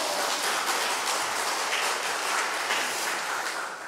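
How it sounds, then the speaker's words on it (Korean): Steady, dense applause from an audience at a Catholic spiritual retreat talk, a continuous patter of clapping close by that holds for about four seconds before easing slightly at the end. "박수 한번 쳐도 되는데."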